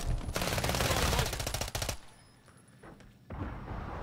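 Rapid automatic gunfire rattles in the Modern Warfare 3 video game, a loud sustained burst of shots lasting about two seconds, followed by a short lull and then more firing.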